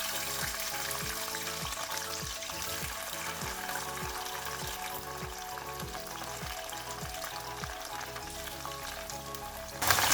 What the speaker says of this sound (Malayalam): ഇപ്പോൾ ഓയിൽ ചൂടായിട്ടുണ്ട്, അതിലേക്ക് കട്ട് ചെയ്ത് വെച്ചേക്കുന്ന വെണ്ടയ്ക്ക ഇട്ട് കൊടുക്കാം.